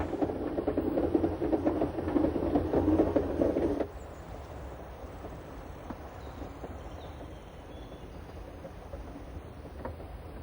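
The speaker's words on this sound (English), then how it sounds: "Our train's top speed is only 12 kilometers per hour, which makes for a leisurely journey" Jungfrau Railways mountain train with a top speed of 12 km/h running on the track, a steady rumbling ride that drops sharply in level after about four seconds and continues as quieter mechanical noise.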